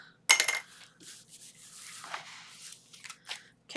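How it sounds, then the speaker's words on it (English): Scissors cut around a piece of black cardstock, with a sharp close snip followed by quieter crisp snipping and rustling at an uneven pace. "I'm just going to fussy cut around it and glue it down on this side"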